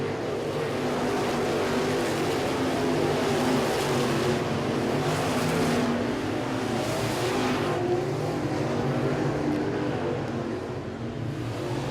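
Dirt-track race cars roar through a night feature race at the Bubba Army Winter Nationals, a dense, sustained engine drone from a pack of cars in lap traffic, loud and continuous with slight swells as they pass.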